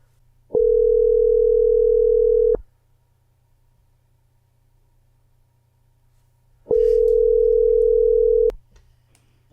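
Telephone ring tone heard while calling a number, two long steady electronic tones of about two seconds each, separated by a silent gap, loud and clear with no talking.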